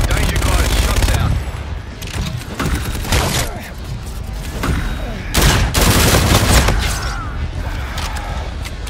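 Heavy gunfire in a Call of Duty: Infinite Warfare battle, loud sustained bursts and volleys of shots with booming impacts, rolling on without pause over a dense combat background, with voices calling out beneath the noise.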